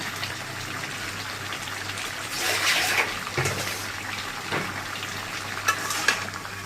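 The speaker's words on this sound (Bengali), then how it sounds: "সবজি কষানো হয়ে গেছে, এখন মাছ দিয়ে দিব।" Vegetables and raw tomato sizzle and fry in a pan for a kalbaush fish curry, a steady crackling hiss with occasional stirring scrapes and louder spits. The sound is close and continuous, with no talk over it.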